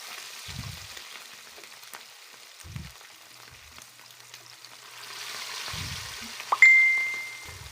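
Oil sizzles and crackles softly throughout as chicharon bulaklak deep-fries, with a few low thumps and a sharp metallic clink near the end followed by a ringing tone.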